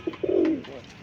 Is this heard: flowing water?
no